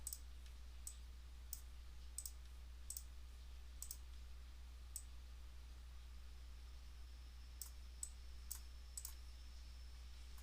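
Computer keyboard typing, a sparse run of faint, crisp key clicks spaced irregularly over steady background hiss, with no voices.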